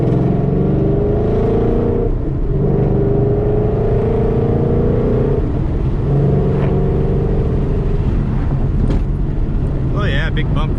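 A loud 2013 Ford Mustang GT engine drones steadily while driving through canyon roads, with continuous low rumble, wind buffeting and a brief revving rise near the end; a voice talks over it.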